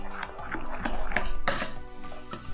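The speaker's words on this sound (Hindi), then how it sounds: "अब इन्हें अच्छे से मिक्स कर लेते हैं" Lemon pickle is mixed with spices in a bowl, a spoon repeatedly clinking and scraping against the bowl in an uneven rhythm, close and fairly loud.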